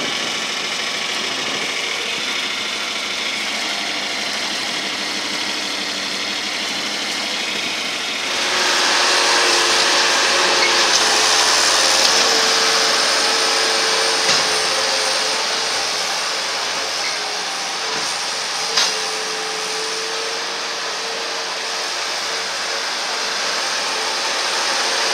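A John Deere 4020 tractor hauling manure, its engine droning steadily and loudly throughout, rising in intensity partway through with a constant mechanical hum.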